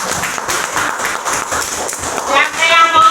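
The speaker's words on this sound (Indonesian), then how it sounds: "Untuk kelompok B kita biar dulu tepuk tangan." Schoolchildren in a classroom clap in quick, uneven bursts for a group's presentation, close and fairly loud, with young voices calling out over the clapping toward the end.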